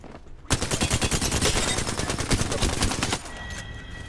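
Loud, rapid automatic gunfire from an Apex Legends firefight rattles continuously for about three seconds, then cuts off to a quieter game background with faint tones.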